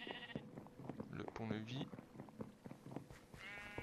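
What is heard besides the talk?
sheep bleating in the video game Minecraft Dungeons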